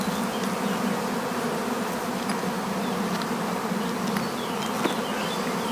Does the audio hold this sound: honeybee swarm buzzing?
yes